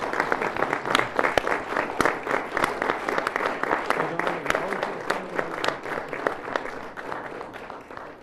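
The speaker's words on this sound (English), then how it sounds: "Oh, there's some applause." Steady applause fills a city council meeting chamber, dense clapping from a seated crowd carrying on without a break for several seconds.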